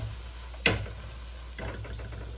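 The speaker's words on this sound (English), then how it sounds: "that's what you want, that sizzle" Garlic bread sizzling in a frying pan beside a crab boil, a sharp crackle as the bread hits the pan, then a soft steady sizzle over a low background hum, with no talking.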